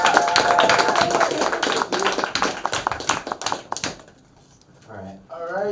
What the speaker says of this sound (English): Everybody, big round of applause for Kylie and Ross.